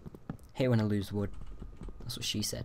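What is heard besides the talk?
computer keyboard typing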